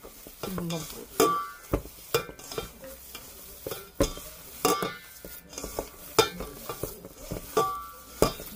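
A spoon stirs breadcrumb filling for stuffed peppers in a pot, giving repeated scraping strokes and sharp clinks at an irregular rhythm. A light sizzle sits underneath, and nobody talks.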